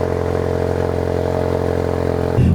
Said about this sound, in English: the sound of this exhaust, which sounds really great